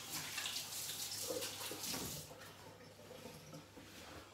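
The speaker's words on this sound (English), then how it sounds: "Excuse me, just going to wash my hands." A tap runs while hands are washed at a kitchen sink during the making of butternut squash and sage risotto: a faint, steady water rush for about two seconds, then a quieter trickle and soft movement.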